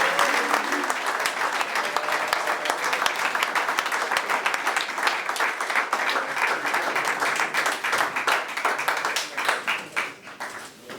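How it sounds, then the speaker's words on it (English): A crowd at a university sports club's end-of-season awards night gives a long, loud round of applause with dense, steady clapping that tails off toward the end. "I think he deserves a huge round of applause"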